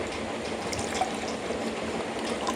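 Small amount of water poured while preparing a Panch Tulsi drops demo, a steady soft trickle running continuously throughout, close and quiet with no talk.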